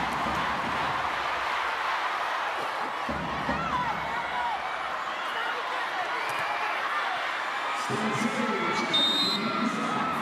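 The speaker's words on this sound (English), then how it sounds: "Just listen to the crowd." Crowd cheering in a volleyball arena at a 2023 PVL All-Filipino Conference finals match, a dense steady roar filling the space while an announcer talks over it.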